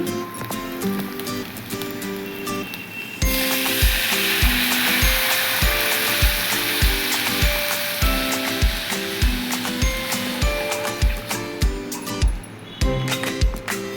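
Buttermilk poured into a hot tempering for kadhi sets off a sudden loud, hissing sizzle that stays dense, while rhythmic knocking stir strokes continue underneath and after it; no one speaks.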